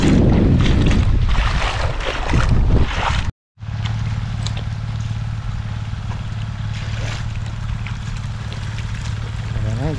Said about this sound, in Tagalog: pakipatay mo na yung makina